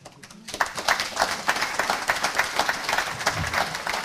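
A round of applause erupts from a crowd at a sheep shearing gathering after a brief quiet moment, steady clapping continuing throughout.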